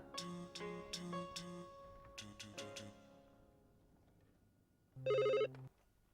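A telephone rings indoors in short repeated bursts of chiming electronic tones, then a pause and one louder final ring, fairly quiet overall, with no voices.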